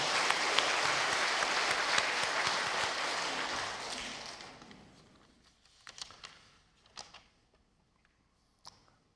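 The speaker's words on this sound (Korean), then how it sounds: "우리 하나님께 영광의 박수 올리겠습니다" A church congregation applauds during a Sunday worship service at a Presbyterian church, a dense, loud wash of clapping that fades after about four seconds, followed by a few scattered individual claps and small noises.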